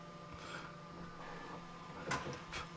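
A home printer whirs and clicks faintly as it runs, with a couple of louder mechanical shuffles near the end, quiet and alone.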